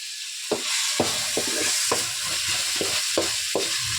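Chicken cooking in a pan for momos, a steady sizzle with a spatula scraping and stirring in regular strokes, close and moderately loud with no talking.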